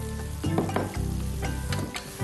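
Shiitake mushrooms sizzle loudly in a hot frying pan with cooked onions, with a steady crackling hiss and bursts of stirring scrapes throughout.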